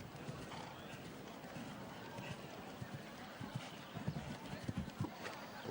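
Show jumping horse hooves thud on the course at a Nations Cup event in La Baule, irregular and moderately distant under crowd ambience, with someone commentating in French over them.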